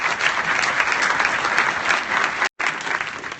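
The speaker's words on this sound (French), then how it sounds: "Je voudrais les remercier et qu'on les applaudisse pour leur participation" A conference hall audience at an opening plenary applauds the participants, a thick, steady roar of many hands clapping, loud and continuous, with a brief dropout in the middle.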